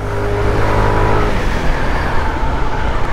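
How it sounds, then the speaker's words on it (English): A SYM 158cc liquid-cooled motorcycle engine runs loud and close, a continuous throaty drone with a slight rise and settle in pitch throughout. "Because this is SYM's 158cc liquid cooled motor."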